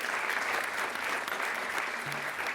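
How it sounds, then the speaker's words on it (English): Applause from the audience at a Cannes 2024 film press conference, a steady dense wash of clapping filling the whole short stretch, moderately distant. "please give a round of applause for some key people who are here at the front"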